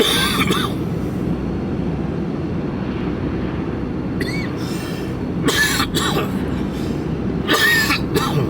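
Several short, harsh coughs from a lingering cough burst out over a steady low rumble of engine or traffic noise, clustered in the second half.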